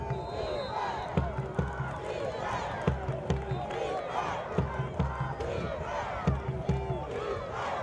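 Crowd noise at a high school football game between the Southwest Patriots and the Dublin Fighting Irish, a steady roar of cheering voices with repeated loud thumps and shouts rising through it, heard throughout at moderate level.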